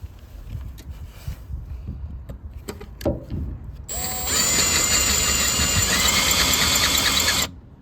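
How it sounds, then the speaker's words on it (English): Clattering and mechanical knocks give way to a loud, steady high-pitched power drill whine, drilling out metal on a Ford Ka, that runs for several seconds before cutting off abruptly. "we're going to drill it out"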